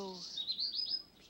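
Birds chirp at a birdhouse in Amanda the Adventurer 2, a quick run of high, thin tweets close by, with brief bits of a voice at the start and end.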